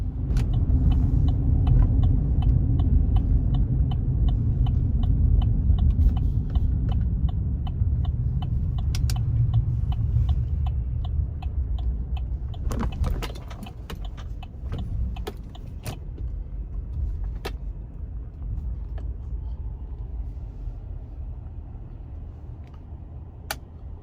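A VW bus, a 21-window model, drives on a ride to the metal store, with a steady low engine and road rumble throughout, sharp rattles and clicks above it, and the drone easing slightly in the second half.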